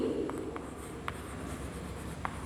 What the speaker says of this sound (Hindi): वही सेंटेंस हम लिखते हैं